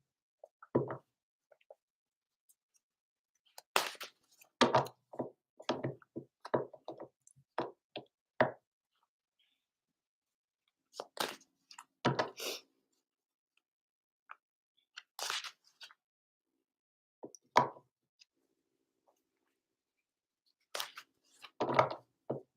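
A deck of cards being shuffled at a table, heard as bursts of crisp riffling and tapping that come in short clusters separated by quiet gaps, close and fairly soft, with no talk.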